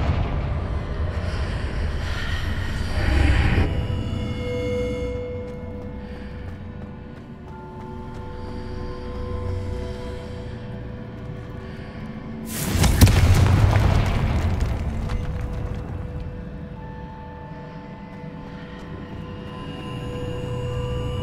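Explosions from the Confringo blasting spell in the game Hogwarts Legacy, two deep booming blasts with rumbling tails, one near the start and a louder one midway, set against an ongoing game score.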